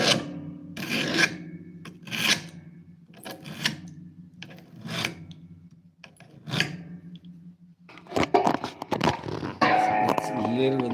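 A blade is worked by hand to pull the burr, giving repeated rasping, filing-like strokes in a slow rhythm, each one loud and close with pauses between. A denser scraping burst comes near the end.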